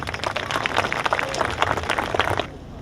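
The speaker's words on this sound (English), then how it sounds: "clap it up." Audience applause at a community event, a dense burst of many hands clapping at close range that carries on steadily before cutting off near the end.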